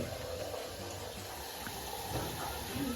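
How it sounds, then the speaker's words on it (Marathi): Water poured from a container into a pan of onions, potatoes and masala while Maggi noodles are being cooked, a soft continuous splashing pour at low level for a few seconds. "आता पाणी टाकते आपण"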